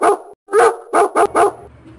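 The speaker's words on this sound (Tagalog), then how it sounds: "Napakasama mong aso ka." A dog barks loudly and close up in a film scene, giving four or five sharp barks in an uneven burst with short gaps between them and no talking over the sound.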